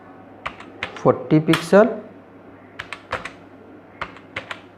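Computer keyboard keys clicked while entering CSS margin code, irregular sharp taps in small bursts spread across the clip, fairly close, with a short stretch of someone speaking Hindi in the middle.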